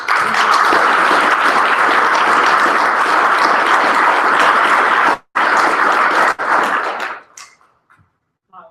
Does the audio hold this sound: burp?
no